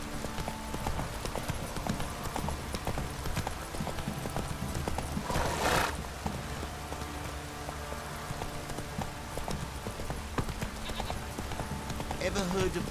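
Horses in The Witcher 3 clip-clop steadily nearby, with a neigh breaking through midway and a voice speaking over the continuous hoofbeats.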